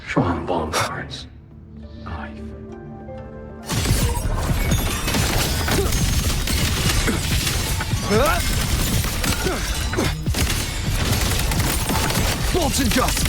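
Shan bombard automated defense cannons firing in the game Wuthering Waves: after a quieter start with talk, a loud, dense barrage of booming shots and crashing impacts erupts and keeps pounding, with voices mixed in.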